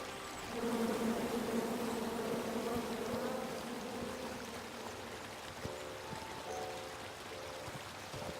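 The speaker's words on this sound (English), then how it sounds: "Come at me, bees!" Angry bees from a tree in the King's Quest video game buzz in a continuous, moderately loud drone that swells early and then slowly thins, with a few soft taps near the end.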